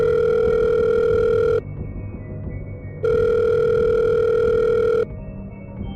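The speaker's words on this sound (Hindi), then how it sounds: "तभी उसकी माँ का फोन आया।" A telephone rings in two long electronic tones separated by a short gap, loud, steady and close, with a low background drone behind them.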